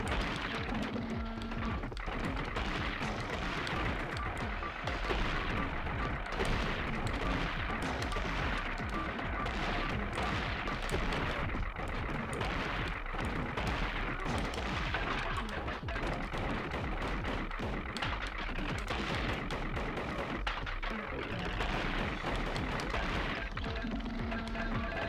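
Missiles launch and burst repeatedly in the retro action game Gato Roboto, a dense, continuous barrage of loud impacts and blasts with no pauses, set over a steady game soundtrack.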